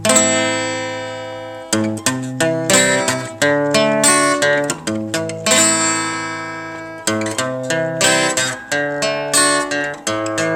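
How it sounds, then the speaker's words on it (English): Electric guitar with palm-muted strings plays the verse of a song, a lesson demonstration: steady picked notes and chords with damped, clipped attacks and short pauses, clear and close with no talking. "So when I throw in palm mute, it's just going to sound something like this."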